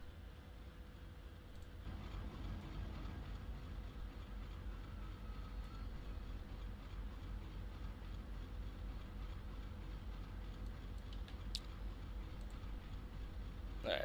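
A model railroad train runs steadily on an operating layout, giving a low continuous rumble with faint clicks, quiet and unbroken for the whole stretch.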